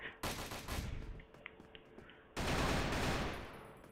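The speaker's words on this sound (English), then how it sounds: "what are you shooting at, dude?" Gunfire in the video game Crossfire, Ghost Mode: loud bursts of rapid shots, then a quieter stretch with scattered small sounds, then a sustained heavy volley that fades slightly toward the end.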